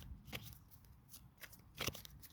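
Tarot cards being shuffled and drawn, making soft, close riffling and flicking noises. Several quick papery bursts come at irregular intervals, with a sharper snap near the end.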